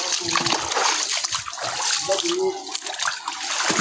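Water of the flooded Njili river in Kinshasa splashes and sloshes close by, loud and continuous, with voices talking over it.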